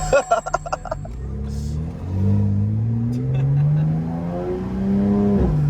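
A Stage 2 tuned BMW M2 (G87) engine revs hard and climbs through the gears, a loud rising growl heard from inside the car, with a few clicks at the start.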